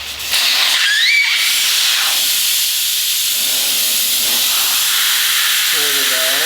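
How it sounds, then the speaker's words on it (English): Loud, steady hiss of air rushing out of a tire on a 17- or 18-inch rim after its Schrader valve is removed, continuous and close, with a brief squeaky whistle near the start. "remove the shrader valve and let all the air out"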